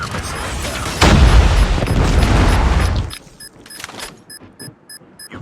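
A Predator missile explosion in Call of Duty Mobile during a Demolition match, a loud booming blast with a rumbling roar lasting about two seconds, then fading into quieter game clicks and small electronic beeps.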